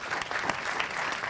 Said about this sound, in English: Thank you, Zayed and Margaret, if you'd like to give them a round of applause